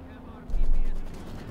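Maxim machine gun firing in Company of Heroes 2, a short muffled burst rising at mid-clip against a steady game backdrop.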